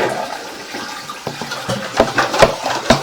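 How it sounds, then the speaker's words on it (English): Toilet being flushed during a sewer line inspection, a loud steady rush of draining water with gurgles and sharp splashing pops through the pipe, heard alone and close. "we're going to have to flush the toilet again"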